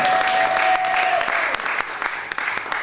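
A congregation applauds in a church at Kensington Temple, a dense loud wash of clapping from many hands that carries on throughout, with a voice calling out over it.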